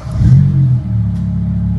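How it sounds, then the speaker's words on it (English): BMW M5 engine turning over and settling into a steady idle after a workshop fault check, a loud low rumble with a brief rev near the start, close by, with a voice speaking over it. "Now the engine starts."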